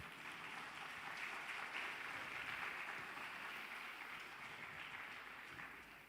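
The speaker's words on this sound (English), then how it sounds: "Definitely deserves another round of applause." Faint, distant applause from an audience at a children's drama performance during Sri Sathya Sai Baba's 100th birthday celebrations, a steady wash of clapping lasting several seconds.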